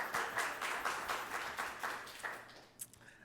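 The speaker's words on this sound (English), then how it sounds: "I feel like we should clap for the introduction" An audience at an academic colloquium claps for an introduction, a brief burst of many hands that fades out after about two and a half seconds, fairly soft and distant.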